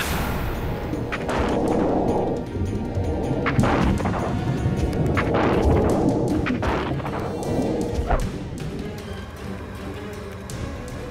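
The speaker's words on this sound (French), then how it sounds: "on va faire une salve d'honneur pour Fitch et Gordon" An honorary volley is fired in salute, with a series of sharp gun blasts and heavy booms spread irregularly over several seconds, loud and close, while rumbling noise fills the gaps.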